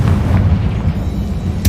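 A Confringo fire-blast spell explodes in Hogwarts Legacy, a loud, deep rumbling boom that fills the short span and ends with a brief sharp burst.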